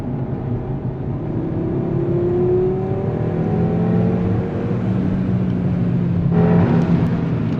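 A car engine revs up and down in several rising and falling sweeps, close by and steady, with no talking.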